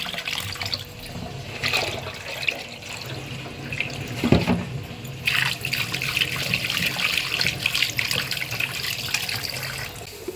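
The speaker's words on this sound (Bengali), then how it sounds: "ভালো করে ধুয়ে নিচ্ছি।" Tap water running steadily over snakehead fish pieces in a sink, with splashing and a brief clatter midway, close and continuous.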